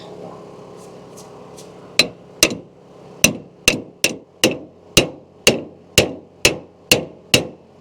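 Sharp metal hammer strikes tapping a part tight onto a shaft while reassembling a firewood processor, about a dozen loud, evenly spaced blows that ring briefly, following a quiet lead-in of faint light taps.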